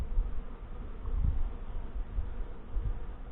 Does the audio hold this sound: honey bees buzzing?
yes